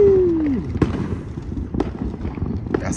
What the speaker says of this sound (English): The big fireworks is done.